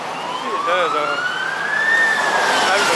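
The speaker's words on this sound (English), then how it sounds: "there's a ambulance" Ambulance siren on a city street near shopping centres, a wailing tone rising and sweeping steadily over continuous traffic noise and a faint voice, fairly close and loud throughout.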